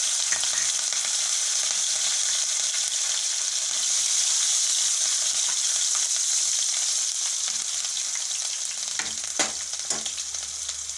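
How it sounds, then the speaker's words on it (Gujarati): Garlic, cumin, asafoetida and green chilies frying in hot oil in a pan, a steady loud sizzle that holds for the whole stretch, with a few knocks from a spoon near the end. "અને થોડુંક આપણે લસણ નાખી દઈએ આપણે જીરું નાખી દેવું અને હિંગ નાખી દેવું અને મરચાં નાખી દેવું લીલા"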